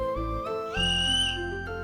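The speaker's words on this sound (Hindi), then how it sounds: "रेफरी के सीटी की आवाज सुनते ही मैच शुरू हो गया" A referee's whistle signals the start of a school kabaddi match between two teams on a court, with sustained tonal blasts rising in pitch and held for over a second alongside other steady tones.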